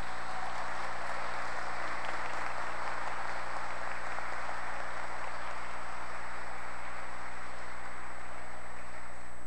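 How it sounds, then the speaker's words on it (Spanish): An audience at a municipal accountability event in Sogamoso gives sustained applause, a steady, even wash of clapping heard at a moderate distance. "vamos a regalarle un aplauso a este equipo"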